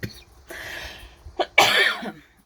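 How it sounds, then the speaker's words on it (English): A few harsh coughs, close and loud, in short bursts with brief pauses between them, the last one the longest and strongest. "it's the most annoying cough in the world"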